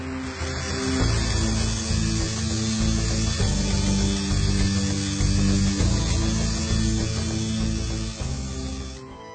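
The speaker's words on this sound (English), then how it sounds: "has completed grinding the Gallaglass blade" A gallowglass sword blade is ground at an armoury workshop, a continuous loud abrasive grinding with a low rumbling machine tone and changing pressure throughout, heard up close with no voices.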